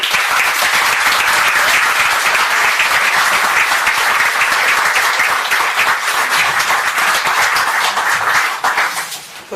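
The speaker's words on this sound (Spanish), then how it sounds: "Un fuerte aplauso para ella." A hall audience applauds someone speaker at a spiritual-themed talk: dense, loud, steady clapping that fills the room without a break, easing off only in the final second.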